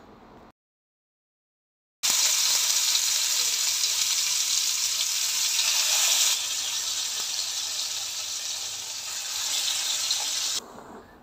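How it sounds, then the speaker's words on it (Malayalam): Fish fries in a pan with a sudden, steady sizzle that starts after a brief silence and carries on evenly at moderate loudness, easing slightly partway through. "ഇനി നമുക്കേ മീൻ വറുത്തെടുക്കാമേ"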